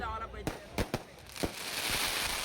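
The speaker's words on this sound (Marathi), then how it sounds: "बघू शकता फटाक्यांची आतिषबाजी सुरू झालेली आहे विसर्जनाच्या आधी" Firecrackers and fireworks go off before a village Ganesh immersion: several sharp, separate bangs at varying distances over a hissing, crackling background.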